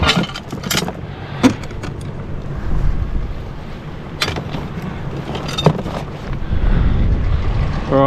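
Small boat under way along a remote south coast, its engine running beneath gusty wind buffeting and water noise, with sharp clinks and knocks on board, fairly loud and continuous.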